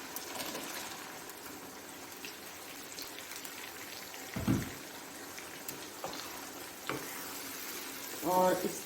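Tomatoes are added to a pan of frying garlic and chicken for palak chicken. A soft, steady sizzle runs throughout, broken by a few light thumps and clatters in the pan.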